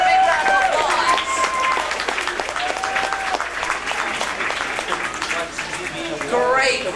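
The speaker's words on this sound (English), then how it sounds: "Let's give Gene a big round of applause" Studio audience applauding during a backlot tram tour special-effects show, a broad steady wash of clapping with cheers and voices mixed in throughout.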